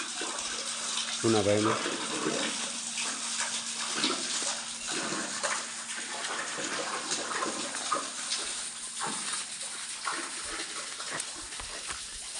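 Water drawn from a farm well at a vadi in Thorali, Talaja, rushes and splashes in a steady, continuous flow, with a voice speaking over it.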